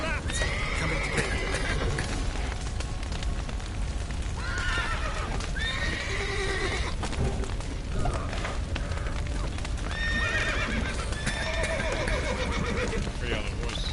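Horses in the Witcher 3 game whinny and neigh repeatedly during a stable rescue, with clip-clopping hooves, creaking wood and mechanical clatter underneath, and some voices mixed into the continuous busy scene.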